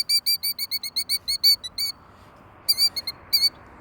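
A killdeer defending its chicks gives rapid, shrill, piercing calls in a quick series, then a brief pause before more sharp bursts, close and loud over faint background.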